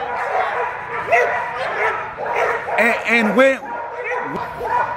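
Dogs yip and bark in short bursts at an American Pit Bull Terrier nationals show, mixed with whimpers, under steady nearby conversation.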